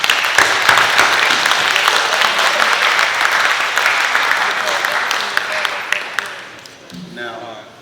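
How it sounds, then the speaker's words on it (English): Audience at a graduation ceremony giving sustained applause, dense and steady clapping that fills the room, then fades near the end as a voice begins speaking. "Share with me in giving our partners a round of applause."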